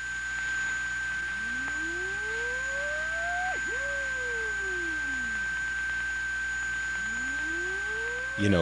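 A telephone loop checker tone from a 1970s New York City routing setup: steady pure tones with sweeping chirps that slowly beat against each other, loud and continuous with no voices.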